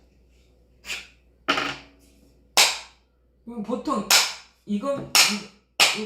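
Sharp, loud knocks of a hand slapping a tabletop, several separate strikes spaced irregularly, each with a short ringing decay, with a brief spoken word between them.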